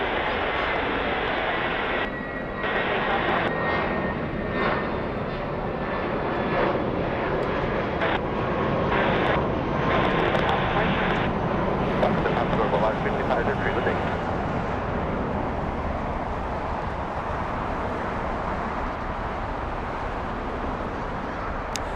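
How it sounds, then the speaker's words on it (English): A Mexican-registered executive jet at LAX, its engine roaring steadily with a high whine that slowly fades as it passes, heard under faint outdoor ambience. "This is a Mexican registered exec jet"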